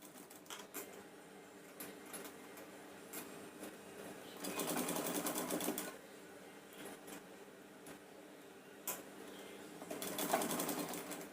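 A sewing machine stitches the lining cloth of a Punjabi dress, whirring in several bursts of rapid needle chatter with brief slower stretches between, close but moderately quiet.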